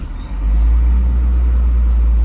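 A semi truck reversing with a trailer, its engine swelling into a loud, close, continuous low rumble that holds steady throughout.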